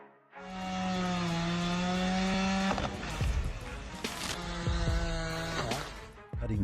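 A chainsaw running close and loud on a steep hillside tree-cutting job holds a high, steady whine, then bogs and revs in uneven bursts as the chain bites into wood.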